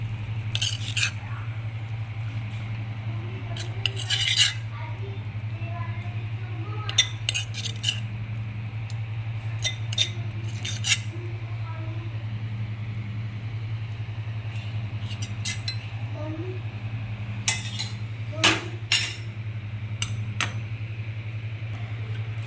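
A spoon scooping cooked sweet corn from a pan onto a plate, with sparse, scattered metallic clinks and scrapes over a steady low electrical hum.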